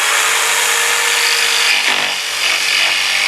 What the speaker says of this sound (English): Then you're going to get a jigsaw, or, well, that's what I use as a jigsaw.